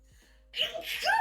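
A person sneezes once, close and loud, after a moment of near silence, with a brief breathy catch after it.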